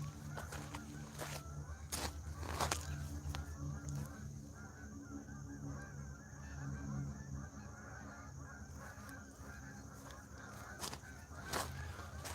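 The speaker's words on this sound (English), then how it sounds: "Big flock of geese. I don't know if you guys can hear them." A flock of geese honks over a lake, the calls faint and distant, repeating irregularly above a low, steady outdoor background.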